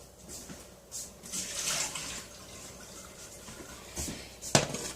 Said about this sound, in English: Let me pour the water off.